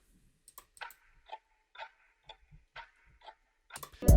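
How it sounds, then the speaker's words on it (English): Sparse percussion loop from a drum kit in a dark trap-style beat, made of dry ticking clicks in a steady pattern, quiet and close, with a louder hit at the very end. "The last thing we added for the melody was this Perc loop which I have in my drum kit."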